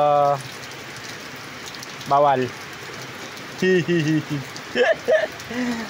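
Steady rain patters on a surface throughout, with several short bursts of nearby voices talking over the hiss.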